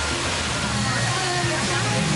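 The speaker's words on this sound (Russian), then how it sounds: "здесь такой очень освоенный водопад" A multi-tiered waterfall at Kbal Chhay near Sihanoukville, Cambodia roars in a dense, steady rush of falling water, loud and close, filling the whole moment without pause.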